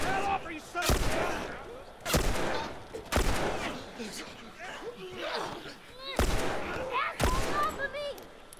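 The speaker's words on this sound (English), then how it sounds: "Shooting upside down is tough." Gunfire from The Last of Us plays as a series of loud, separate shots about a second apart, with frantic voices and game effects continuing underneath.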